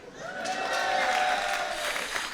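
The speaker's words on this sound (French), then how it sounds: "Non, gardez vos applaudissements." Steady applause from a crowd, sustained clapping that swells and holds for a couple of seconds without any voices.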